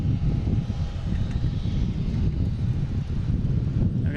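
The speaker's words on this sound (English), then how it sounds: "I got this JetBlue heading to Santo Domingo. Taking off on 22 left." JetBlue airliner taking off from runway 22 left at Boston Logan, a steady low engine roar with wind rumble throughout, held at a fairly even level for the whole stretch.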